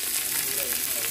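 Onions frying in coconut oil in a pan while biryani is cooked at a Jaffna home, giving a brief, steady sizzle.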